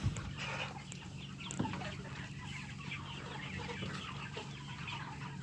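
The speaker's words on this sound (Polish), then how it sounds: "Ile kur jest w środku." Free-range hens cluck softly inside a coop, with scattered faint calls over a steady background hum and no nearby talking.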